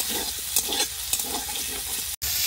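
Fried potatoes and mango sautéing with spices in a pan for a light catla fish curry, a loud steady sizzle with a few scraping stirs of a spatula, cutting out briefly near the end.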